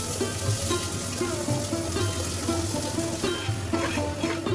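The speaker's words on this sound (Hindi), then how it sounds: "पुलाव मैंने छौंक दिया है।" Steady crackling sizzle of spices tempering in hot mustard oil in a pan for pulao, continuous and close, with a low background hum and no talking.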